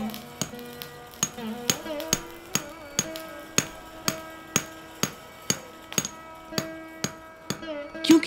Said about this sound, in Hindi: तो आकार देने के लिए हथौड़े से पीटा जाता है।